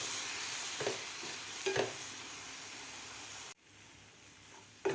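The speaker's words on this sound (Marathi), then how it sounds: "आता आपल्याला व्यवस्थित हे मिक्स करून घ्यायचं आहे दूध घातल्यानंतर." A semolina-coconut modak mixture with saffron milk is stirred in a pan, making quiet scraping strokes over a soft hiss, with a brief drop to near silence before the stirring resumes.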